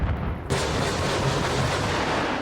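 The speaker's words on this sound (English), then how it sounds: "There's your rockets." A burst of rockets fired from a Huey helicopter in Arma Reforger comes through as a loud, dense roar of launches and booms after a brief lead-in, sustained to the end with no talk.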